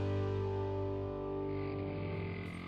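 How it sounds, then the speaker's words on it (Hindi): A motorbike engine approaching in a Hindi college drama, a steady droning hum with a sustained tone that shifts in pitch, fairly quiet and with no talking. "लगता है ये क्रिश की बाइक की आवाज है ना?"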